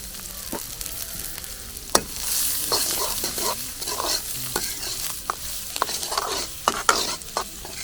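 Chopped onion hits a hot pan and sizzles steadily, with sharp metal clacks of stirring scattered throughout; no one speaks.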